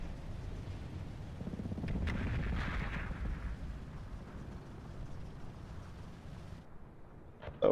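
Cannon half-tracks firing in the WWII strategy video game Combat Mission Red Thunder: muffled distant booms and rumbling gunfire roll through a dense battle din, swelling then fading, with a sharp crack at the end.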